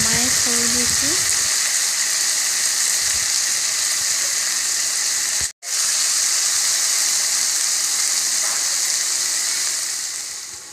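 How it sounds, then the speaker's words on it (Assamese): Onion, tomato, ginger and garlic fry in a little oil in a wok, giving a steady, loud hiss and sizzle that continues with a brief cutoff midway. A voice speaks briefly at the start. "অলপ তেল দি পিঁয়াজ, বিলাহী, আদা, নহৰু গোটেইখিনি একেলগে ভাজি লৈছোঁ।"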